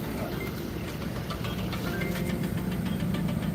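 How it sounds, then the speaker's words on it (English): A 2014 Ford Fusion engine runs at a steady idle, a low continuous hum heard close by and fairly quiet, with no talking. "It is running. Sounds good. This is a 2014 Ford Fusion."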